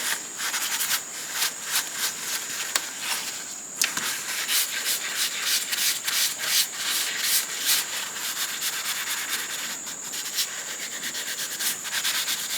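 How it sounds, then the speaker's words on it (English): Buffing and polishing a painted surface with a cloth for an aged, tarnished look makes rapid, rhythmic rubbing strokes, close and fairly loud, that continue steadily for about twelve seconds with no voice over them. "I'm doing the buffing part of this right now. I'm just polishing it"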